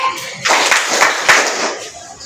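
A classroom of students claps together in a clapping game, a dense burst of hand claps that pulses in about three quick beats.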